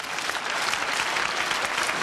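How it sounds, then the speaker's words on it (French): A TV studio audience applauds the technicians and director at a 1981 French broadcast, a dense, even burst of loud clapping filling the whole moment. "Je voudrais que le dernier applaudissement aille vers les techniciens de la SFP et le réalisateur Jacques Brialy."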